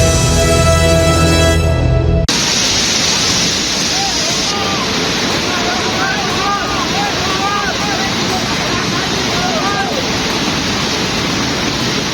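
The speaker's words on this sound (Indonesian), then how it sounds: "Banjir lahar dingin Gunung Merapi menerjang aliran Sungai Senowo, Magelang, Jawa Tengah" A cold lahar flood from Mount Merapi rushes down the Senowo River in Magelang, Central Java, a loud, steady roar of churning water with constant wind buffeting. A brief burst of other sound comes at the very start.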